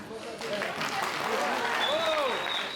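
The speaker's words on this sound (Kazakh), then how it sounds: "Шапалақ" Applause breaks out at a Kazakh gathering after a call to clap for a dombra player, a brief burst of hand clapping under some background noise.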